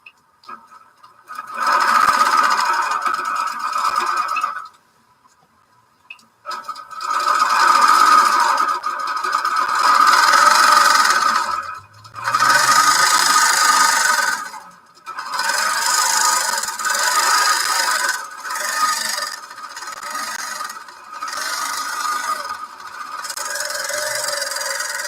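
A sewing machine quilting by stitching in the ditch runs in several long, steady whirring bursts, separated by short pauses, close and clear with no talk.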